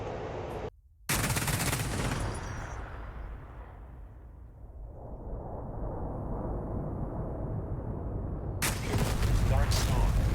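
Bombs from an F-15E Strike Eagle air strike on chemical weapon plants in DCS World hit their target, a loud, sustained explosive roar and rumble that fades and then swells again with crackling blasts, with no talk.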